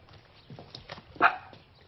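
A young dog gives a few short, close barks and yips, with the sharpest bark near the end of a brief burst.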